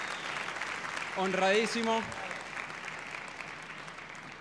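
Audience at the Pepsi Music awards ceremony applauding in a steady, distant wash of clapping, with a short spoken phrase over the middle of it.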